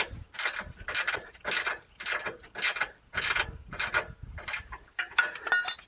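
Ratchet wrench clicking in rapid bursts while tightening a rear shock bolt on a Chrysler Town and Country minivan, about eight close, rhythmic ratcheting runs separated by short pauses, no talk.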